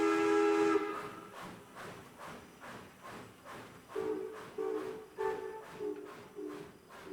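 A steam locomotive gives a short whistle blast, then chuffs in a steady, rhythmic puffing while further whistle tones sound over the beat, moderately near and fairly quiet.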